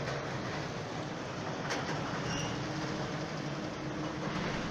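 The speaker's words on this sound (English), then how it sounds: "The installation of railway sleepers by a track renewal train in a fully automated" A track renewal train installing railway sleepers rumbles with a steady, dense mechanical roar, a continuous loud wash of rail machinery with faint clicks above it.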